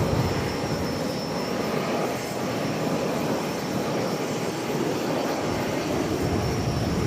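Dense, steady engine roar of a Lufthansa airliner arriving at Charlotte airport, loud and continuous with no talk over it.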